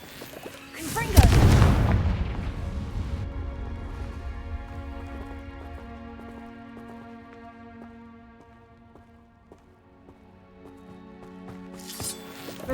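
A fiery blast spell goes off in Hogwarts Legacy, played on PC: a loud booming explosion near the start that rumbles and slowly decays over several seconds, with a soft swish near the end.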